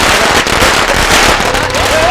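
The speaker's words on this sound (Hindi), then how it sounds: "पटाखे फोड़ो।" Firecrackers burst in a dense, rapid crackling barrage, loud and close, with voices shouting underneath.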